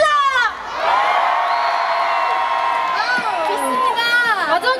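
A large outdoor concert crowd at the Gongju Baekje Cultural Festival screams and cheers for a K-pop group, with high-pitched shrieks swelling into a sustained roar that carries through the clip.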